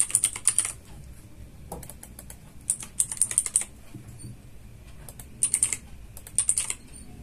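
Keys clatter on a computer keyboard in quick, close bursts of typing separated by short pauses, with no talking.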